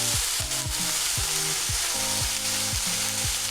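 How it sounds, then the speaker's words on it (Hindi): Mixed vegetables with corn fried in a pan for a macaroni salad: a loud, continuous close sizzle with a rhythmic stirring scrape repeating about once a second. "तो आप देख रहे हैं कि सारे वेजिटेबल्स बस फ्राई हो गए हैं"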